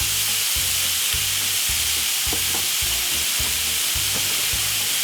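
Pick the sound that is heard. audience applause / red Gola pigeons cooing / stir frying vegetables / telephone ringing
stir frying vegetables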